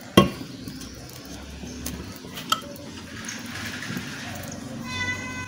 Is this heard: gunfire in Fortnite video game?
no